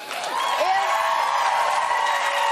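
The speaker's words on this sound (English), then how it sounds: "Why the fuck is there so much cheering?" Studio audience cheering and whooping at a late-night political comedy show, a continuous dense crowd roar at steady loudness with scattered shouts and no clear talk.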